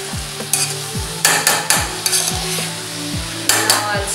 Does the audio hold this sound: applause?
no